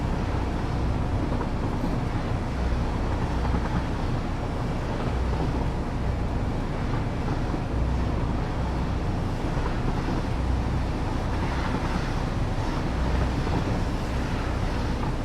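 Steady roar of the SS United States ocean liner in a video game, racing at 38 knots: a dense, continuous rush of wind and water with a deep engine rumble, constant and loud throughout, no voices.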